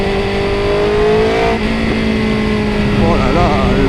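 A BMW S1000R motorcycle, a 2025 model, revs hard and spins up quickly toward high rpm with a rising, droning engine note. The tone climbs, dips briefly, then climbs again, and it stays loud and close throughout.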